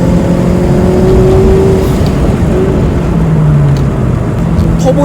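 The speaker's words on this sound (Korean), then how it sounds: "엔진이지만 이거를 지금 7000rpm까지 끝까지 돌리고 있거든요" A Toyota 86 with an automatic transmission revs hard toward 7000 rpm while driving, its engine drone rising and shifting in pitch, loud and close inside the cabin under steady road noise.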